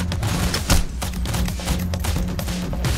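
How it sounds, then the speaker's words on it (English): Gunfire in the heist video game Payday: The Heist, a busy stretch of repeated shots with one louder burst near the start, mixed into dense game noise and hum. "One is shooting at me."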